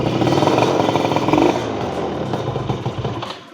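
A Yamaha Mio two-stroke scooter engine idles close by with a buzzy, sputtering rattle that fades slightly toward the end, no talk over it.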